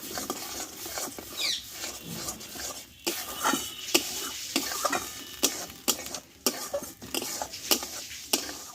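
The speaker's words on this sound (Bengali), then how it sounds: "এবার এটা দশ মিনিট মতো ভালোভাবে আমি ভাজতে থাকবো" Broad bean mash frying in a little oil in a pan, a steady sizzle with repeated sharp scrapes and clinks of a spatula stirring against the metal.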